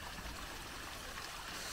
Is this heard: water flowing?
yes